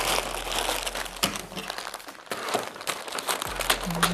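Close, busy crinkling of wrapping paper folded around paper-towel-wrapped frozen meat, with dense rustles, brief pauses and sharp crackles throughout.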